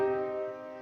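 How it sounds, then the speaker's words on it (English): A single sustained minor chord rings out, struck once and decaying smoothly over under a second, clear and close with no talk. "Put simply, it's a minor chord, which sounds like this"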